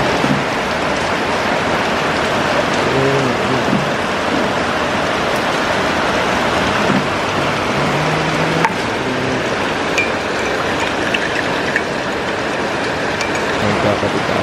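Heavy, non-stop rain pours down on a garden beside a greenhouse, a dense, even hiss of drops close by, with a faint low voice briefly underneath.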